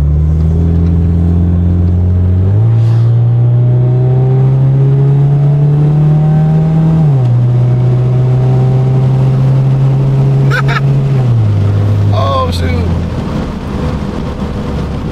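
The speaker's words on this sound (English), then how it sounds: "It gives that racing sound." A car engine with newly fitted headers revs loudly and close, holding a deep raspy drone that steps up and down in pitch several times before easing off near the end.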